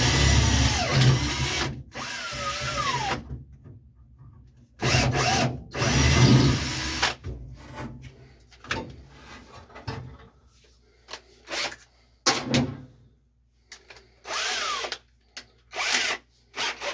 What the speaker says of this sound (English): I'm just going to drill a pilot hole and then use the step bit to open it up until I get to the desired size